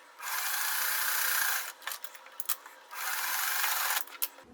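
A sewing machine stitches a quilt block in two steady, close whirring runs, separated by a short pause filled with light handling clicks and rustles. No one speaks.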